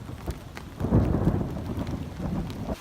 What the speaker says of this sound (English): Oh, this is about to thunder.